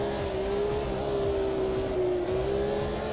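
Race car engine in the sim racing game Automobilista 2 (version 1.6), a steady, loud droning whine holding an even pitch with slight rises, continuous and alone.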